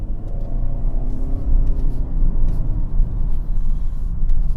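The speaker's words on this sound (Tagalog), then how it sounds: "I'm really having fun driving the Camry here sa mga twisties." A 2022 Toyota Camry Hybrid driven along twisty roads in the Philippines, giving a steady, deep cabin rumble of road and powertrain noise with slight swells as the throttle changes.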